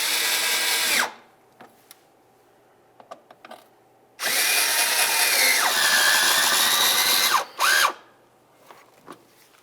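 A power drill drives Phillips head mounting screws holding the inner fender liner on a 2005-2010 Dodge Dakota, two long, loud, steady whirring runs separated by light clicks and handling, then a short final burst.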